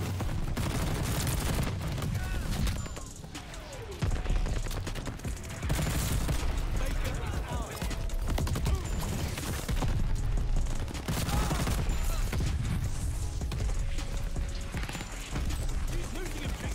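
Sustained bursts of rapid G43 rifle gunfire in the Call of Duty: Vanguard video game, loud and dense with overlapping shots and battle noise filling most of the stretch, with a brief lull partway through.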